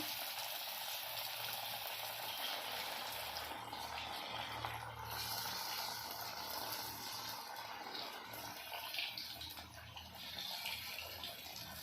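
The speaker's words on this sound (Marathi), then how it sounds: "इथे तेल आपलं छानपैकी गरम झालेलं आहे तर त्याच्यात आपण वड्या सोडूया" Cabbage vadi frying in hot oil, a steady, continuous sizzle and bubbling that holds evenly throughout, fairly close and without any talk over it.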